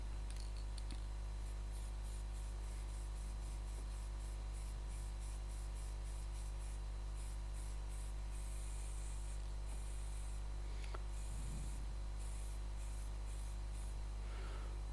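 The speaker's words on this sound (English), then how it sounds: "So the sanding sealer I'm going to use some spray sanding sealer." Spray sanding sealer hisses in repeated short bursts onto a woodturning piece, layered over a constant low hum from the workshop.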